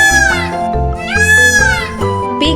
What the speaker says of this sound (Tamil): மயில்,